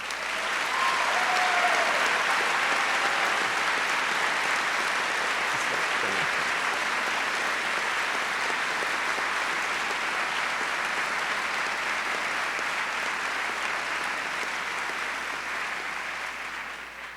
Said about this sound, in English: Would you please join me in one final round of applause for them?